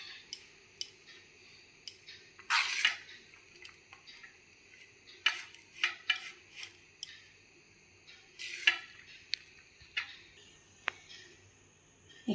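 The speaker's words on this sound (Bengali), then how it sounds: "কাঁটা চামচ দিয়ে একটু এইভাবে মেখে নেব।" A fork mixing egg, Maggi noodles and spices in a bowl, giving light, irregular scraping and clinking taps with a few louder scrapes, close and fairly quiet, with no talking.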